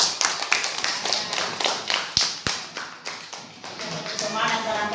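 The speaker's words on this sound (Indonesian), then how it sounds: "beri tepuk tangan dulu untuk kita semua" Hands clap together in a classroom during a school music lesson, a run of sharp, fairly even claps filling the moment, with a couple of louder thuds standing out.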